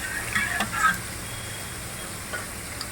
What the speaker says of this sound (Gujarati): આમાં તમાલપત્ર, લીલા મરચાં, સૂકી ડુંગળી, ટમેટા આ બધું એકદમ સાતળાઈ જવા દેવાનું